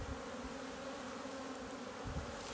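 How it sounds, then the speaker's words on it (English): Honeybees buzz in a constant faint drone during a beehive inspection shortly after a package install, a dense steady hum with no voices over it. "she's not going to be like this bee right here, which is a drone"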